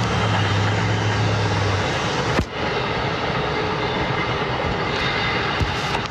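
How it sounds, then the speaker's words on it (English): A train rolls past, a loud, continuous rushing rumble with a brief dip partway through, heard alone without talk. "Train."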